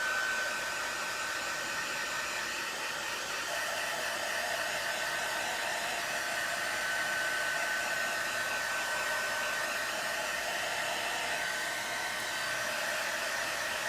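A hair dryer blows steadily on a chalk transfer stencil, a continuous close, even roar with no breaks throughout.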